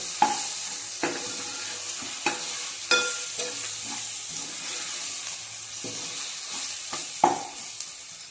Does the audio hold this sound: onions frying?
yes